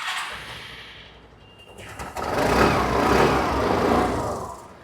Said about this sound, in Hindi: अब बात करते हैं 25 वाले के यहाँ पे एग्जॉस्ट साउंड के ऊपर हम लोग